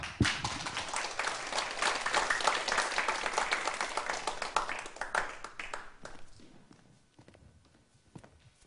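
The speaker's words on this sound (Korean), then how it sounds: "큰 박수로 맞아보겠습니다" An audience claps to welcome a lecturer to a seminar on finding work after retirement. Dense, even applause rises and holds for several seconds, then thins to a few scattered claps and fades to quiet.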